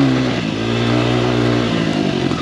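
Honda XR100 dirt bike climbing a hill on a single-track trail in second gear, a loud close engine droning steadily under load with a slight pitch dip partway through.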